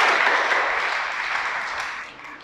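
An audience at a Spanish-language talk on Mexican patriotism breaks into steady clapping, a full close wash that gradually thins and fades toward the end.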